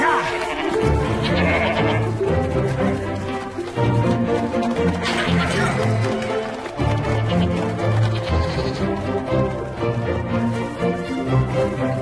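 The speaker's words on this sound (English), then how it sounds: "The goats." Several loose goats bleat repeatedly and loudly at close range, overlapping cries over outdoor rustling and movement, with a voice briefly audible.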